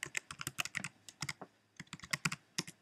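Fingers typing a folder name on a Mac computer keyboard, a quick run of crisp, close key clicks in irregular bursts with a short pause midway, no talk.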